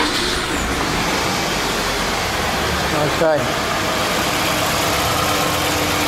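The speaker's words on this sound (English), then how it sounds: "So now the engine's running quite nicely." A car engine idles in a steady low rumble, close by, while a person speaks briefly over it.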